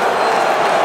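Dense roaring boxing arena crowd at a heavyweight fight between Klitschko and Mormeck, a loud sustained wash of voices reacting with disapproval, continuous and near with no individual words standing out.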